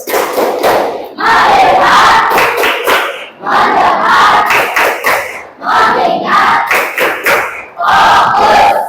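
Schoolchildren in an Indonesian classroom chant the focus clap routine together, loud unison shouting mixed with sharp patterned claps in four or five quick bursts separated by short pauses.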